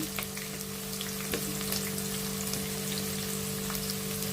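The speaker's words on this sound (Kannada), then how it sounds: "ಆನಿಯನ್ ಹಾಕ್ತಾಯಿದ್ದೀನಿ ಇದು ಪಲಾವ್ ಎಲೆ ಇದು" Chopped onion and a bay leaf sizzle steadily in hot oil in a pan, a dense, even crackle with occasional pops, close and continuous with no talking.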